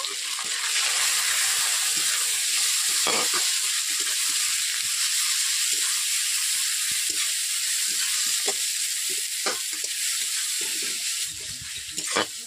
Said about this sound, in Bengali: এরপর দিয়ে দিচ্ছি পেঁয়াজ পেস্ট করে রেখেছিলাম আগে থেকে, পেঁয়াজগুলোকে দিয়ে দিচ্ছি।